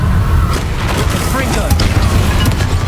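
Confringo blasting spells erupt in Hogwarts Legacy combat against Inferi, giving dense, continuous booming and crashing bursts that fill the whole stretch, loud and close under a game voice calling out.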